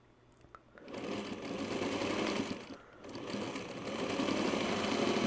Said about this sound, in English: Okay, now we can sew.